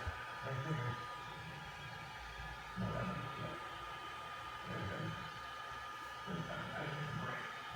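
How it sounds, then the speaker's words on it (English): A heat gun blows a steady, fairly quiet whooshing hiss with a faint hum while it strips the top layer of paint protection film from a car's paintwork. The airflow swells slightly in a few short bursts. "We'll take the top layer off with a heat gun, and then we'll chemically remove what's remaining."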